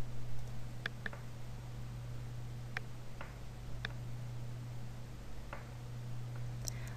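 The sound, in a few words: computer mouse clicking a link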